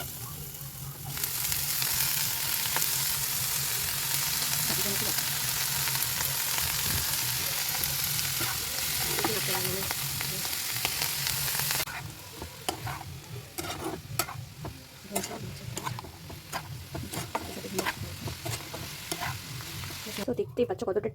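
Marinated chicken fries in a little oil, a dense, steady sizzle for about twelve seconds that then drops to a quieter crackle with intermittent stirring taps and clicks, close by.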